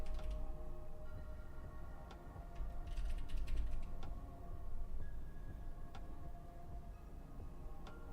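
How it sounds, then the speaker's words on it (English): Keys clatter on a computer keyboard in irregular quick bursts and isolated taps, fairly faint and close against a steady low room hum, with no voices. "Typing random numbers in my chat."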